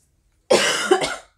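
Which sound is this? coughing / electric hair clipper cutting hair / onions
coughing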